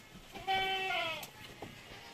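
A purebred Anglo-Nubian goat lets out one clear, quavering bleat lasting under a second, followed by a short softer call, with quiet farmyard noise between.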